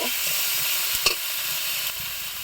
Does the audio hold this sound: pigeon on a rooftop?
no